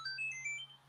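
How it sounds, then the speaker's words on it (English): A phone notification chime that was left unsilenced plays a quick run of bright, rising electronic tones, faint and alone over a low steady hum. "that was my phone chime because I forgot to silence it"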